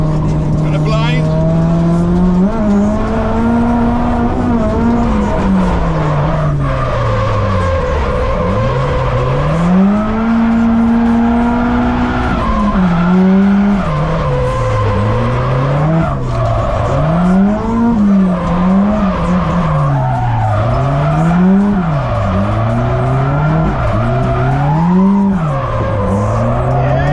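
A drift car on the North Course at Ebisu Matsuri, its engine revving and swinging steadily in pitch over a continuous loud tire squeal, heard close from on board with the car sliding through corners, while a voice talks over it.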